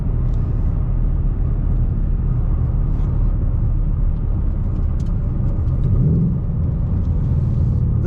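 2019 Ford Mustang GT coupe with a 6-speed manual gearbox driving on a dry winter road in Minnesota, with a steady, loud low engine rumble and road noise heard from inside the car.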